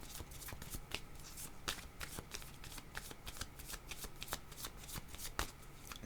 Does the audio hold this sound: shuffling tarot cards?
yes